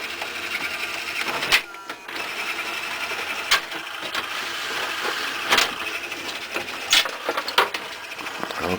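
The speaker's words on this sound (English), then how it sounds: "the loading or the function motor or something doesn't seem to have quite enough gumption to take it all the way to detach the caddy" The loading motor of a 1984 RCA CED videodisc player whirs steadily to detach the caddy, a close mechanical hum broken by several sharp clicks and clunks.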